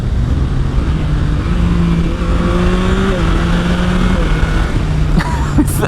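A 2023 Yamaha MT-09 SP motorcycle engine drones steadily under heavy wind rush, with the engine note stepping in pitch as the quickshifter clicks through gears, close and loud throughout.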